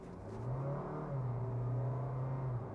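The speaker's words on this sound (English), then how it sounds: "There is a CVT gearbox, so it doesn't have fixed gears, and it can get noisy" A Honda Jazz with a CVT gearbox accelerates with a smooth, rising engine drone that holds a steady whining pitch, with no gear shifts, heard from inside.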